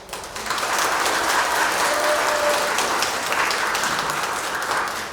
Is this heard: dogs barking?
no